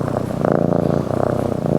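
A newly adopted cat purrs steadily up close, a continuous low rumbling vibration with a gentle pulsing rhythm and no other sounds.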